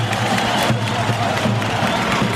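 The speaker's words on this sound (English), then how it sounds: "Kosovan players have come out for their warm-up to a huge round of applause." A crowd in a half-full football stadium before a Montenegro versus Kosovo match gives a steady, continuous round of applause and cheering as the Kosovan players come out to warm up, heard from within the stands.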